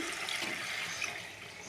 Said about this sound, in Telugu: వాటర్ పోసేస్తున్నాను